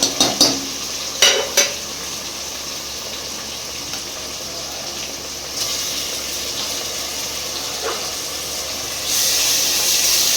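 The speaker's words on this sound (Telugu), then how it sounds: "ఇదిగోండి మన టమాటాలు, ఆనియన్, పచ్చిమిర్చి, అల్లం అన్నీ ఫ్రై అయిపోయినాయి." Tomatoes, onion, green chillies and ginger fry in a pan for a chicken pulao, giving a steady close sizzle with a few sharp clinks of a spoon stirring against the metal.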